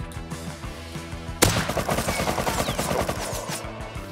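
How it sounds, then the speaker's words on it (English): AK rifle fire in the Rust video game: a sudden loud shot cuts in, followed by a dense, rapid run of repeated shots that keeps going to the end. "I shot him."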